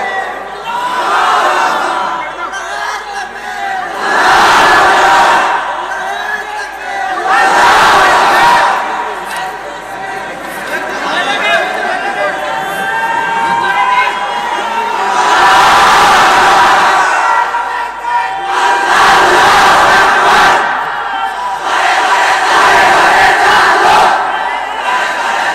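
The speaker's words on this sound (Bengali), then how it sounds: "জোরে আওয়াজ দিয়ে তাকবীর" A large crowd at a big Islamic waz gathering in Rajshahi roars the takbir chant in loud, repeated collective bursts, each swell answering a single leading voice between them.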